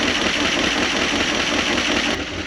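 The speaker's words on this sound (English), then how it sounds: "Those are some noisy lifters in this thing" An old Dodge D600 truck that sat for over 23 years idles nearby with noisy lifters, a loud rough engine rumble with rapid ticking clatter throughout, easing slightly near the end.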